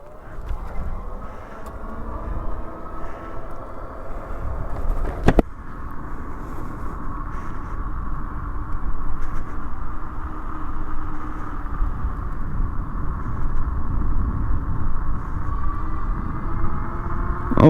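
An electric bike out on a test ride, giving off a steady low hum and road rumble that stay constant for the whole ride, with a brief sharp knock partway through and no talking.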